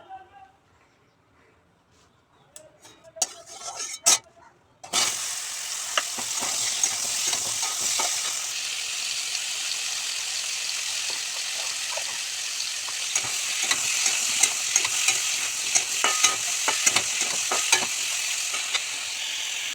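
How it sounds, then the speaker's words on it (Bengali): Green jackfruit pieces drop into hot oil in a wok, starting a loud, continuous sizzle with frequent stirring scrapes, after a few seconds of quiet clatter and a voice speaking. "এবার এই তেলে ইঁচড়টা একটু ভেজে নেবো।"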